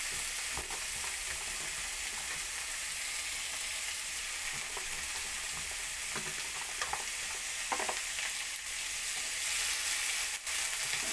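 Potatoes, pumpkin and yardlong beans fry together in a pan with a constant close sizzle and hiss, broken by occasional soft stirring scrapes.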